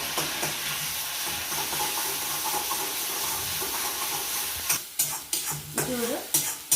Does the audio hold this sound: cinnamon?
yes